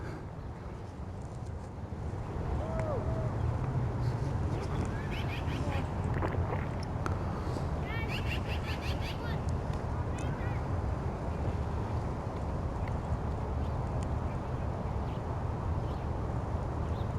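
Ducks quack by the water on a walk in Griesbach, a few calls rising over a steady wash of wind and outdoor ambience at moderate distance.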